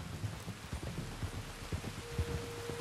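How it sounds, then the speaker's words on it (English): Rain falls steadily in Red Dead Redemption 2, a dense patter beneath rhythmic clip-clop of horse hooves moving at a walk, with a faint sustained tone entering partway through. "You were right about the damn rain."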